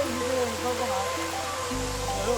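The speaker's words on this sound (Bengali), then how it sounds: "একের পর এক ঝর্ণা" A hillside waterfall at Sitakunda rushes in a steady, broad wash of water noise, with a voice talking over it.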